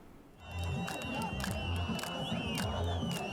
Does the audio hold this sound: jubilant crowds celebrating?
yes